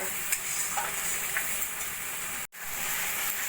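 Poppy seed paste stirred into frying spices in a pan while making an egg posto curry: a loud, continuous sizzle with a hiss of steam and soft scraping strokes, broken by one very brief dropout, with no talk.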